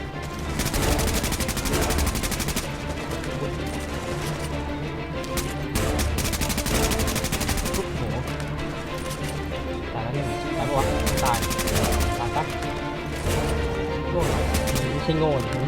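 Sustained heavy gunfire from Tom Clancy's The Division, overlapping bursts and rapid automatic shots with crashing impacts, loud and continuous throughout, with someone talking over the battle.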